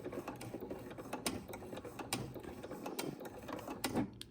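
A sewing machine stitching a few stitches forward and then backward along a ribbon edge, a close mechanical whir with rapid rhythmic ticking and clatter running throughout, no talk.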